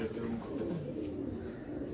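Pigeons coo steadily in a low, continuous murmur at a loft of fit, well-kept birds, a dense backdrop with no clear break.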